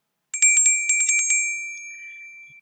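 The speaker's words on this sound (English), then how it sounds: "this bell, clang, clang." A small bell, the kind made at a Connecticut bell factory, rings in a quick burst of about nine bright, high-pitched strikes, then the tone lingers and fades away with no voices.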